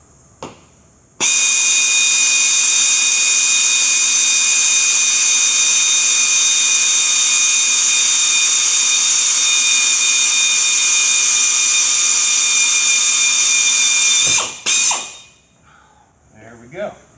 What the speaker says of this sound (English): I don't want to drill all the way through with the light up there